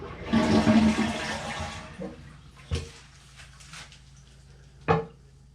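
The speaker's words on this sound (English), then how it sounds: "you're going to flush your toilet" A household toilet flushes with a loud, close rush of swirling water that drains away over a couple of seconds, followed by a few sharp knocks and clunks from the tank and bowl.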